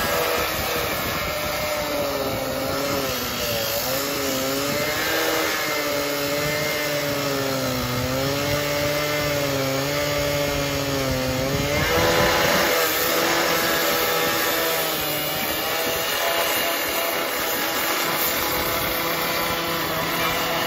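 A disaster saw cuts the top plate off a steel basement post, a loud continuous motor whine with wavering pitch that holds steady throughout.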